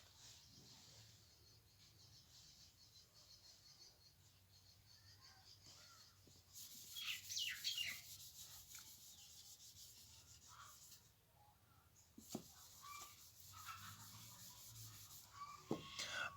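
An eraser rubs writing off a board, a faint soft scrubbing that grows louder partway through, with rhythmic rubbing strokes and brief knocks in a quiet room.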